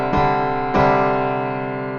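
A sus2 chord is struck twice, the second strum about half a second after the first, and both ring out with a bright, sustained decay. Nobody speaks.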